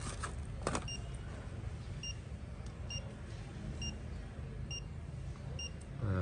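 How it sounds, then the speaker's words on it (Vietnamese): Short electronic beeps from a fingertip pulse oximeter sound at a steady pace, about one per second, thin and high, over a low background hum. No one speaks. "Nó có tiếng tít tít."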